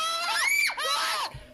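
Children scream suddenly in a reputedly haunted house, two rising, wavering shrieks close by that break off abruptly into quiet.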